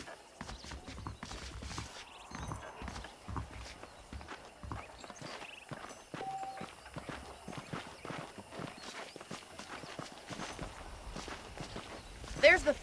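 Horse hooves clip-clop on dirt in the Red Dead Redemption video game, a steady walking rhythm with a voice talking over them and a brief whinny near the end.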